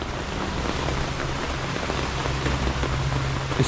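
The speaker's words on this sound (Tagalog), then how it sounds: "grabe yung ulan" Heavy rain pours steadily and loud, a dense continuous hiss of drops drumming on surfaces with no pauses and no voices.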